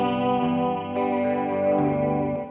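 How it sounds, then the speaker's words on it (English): Sustained, layered chords ring out under a lush Verb Suite Classics reverb on its Music Club setting, part of a modern emo song production. The steady wash holds for about two and a half seconds, with no voices. "I'm using this Verb Suite Classics for the reverb, and it's on the Music Club setting"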